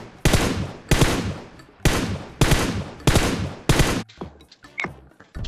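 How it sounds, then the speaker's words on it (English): Rapid bursts of automatic gunfire from the mobile shooter game PUBG Mobile, about six loud sharp volleys in quick succession, then scattered fainter shots and clicks near the end, with no talk. "I'm getting shot from the side"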